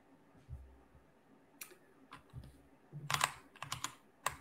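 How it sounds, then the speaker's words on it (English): Computer keyboard typing: scattered, fairly close key clicks that bunch into a quick burst of rapid taps toward the end, with no talking. "Oh, my keyboard."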